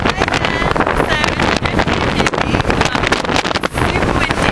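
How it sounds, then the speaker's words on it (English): Strong wind buffets the microphone on the open deck of a ferry bound for Ireland, producing loud, gusting roar and rumble with the vessel's motion faintly beneath. "So super windy and I'm sitting on the deck at the moment"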